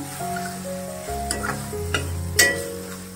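A drumstick mixed-vegetable sabzi with turmeric, chili powder and coriander being sautéed: soft sizzling and a few spoon scrapes against the pan, with a sharper clink near the end, over background music.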